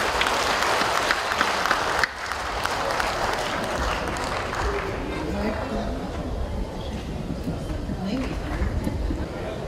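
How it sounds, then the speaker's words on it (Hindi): Audience applause for a poet at a mushaira in Patna, a loud, sustained roar of many hands clapping from a large crowd, with a voice speaking over it in the later part. "दोनों हाथ ऊपर उठाकर एक बार जोरदार तालियां बजाइए डॉक्टर अंजुम रहबर।"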